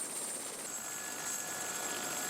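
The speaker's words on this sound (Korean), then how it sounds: "헬기 바퀴가 얼음판에 닿을 듯 말 듯 떠 있는 5분 동안" A helicopter hovers just above floating sea ice at the start of a Bering Strait crossing, its steady broadband rotor and engine roar constant and fairly close throughout, with a faint high whine on top.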